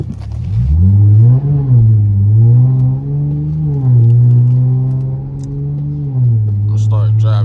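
Car driving on a snowy road, a loud steady engine drone that rises and falls in pitch as the speed shifts, with a person talking near the end.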